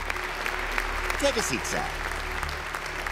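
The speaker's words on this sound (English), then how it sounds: "give him a round of applause." Studio audience applause in a Mr. Bean cartoon stage-hypnotist scene, a steady crackling clapping that runs throughout under a voice speaking to a volunteer.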